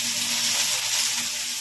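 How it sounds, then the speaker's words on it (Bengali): Chopped onion and garlic fry in hot oil in a pan, giving a loud, steady sizzle that stays dense and continuous from start to finish, with no talking. "এর মধ্যে পেঁয়াজ রসুনটা একটু ভেজে নেব"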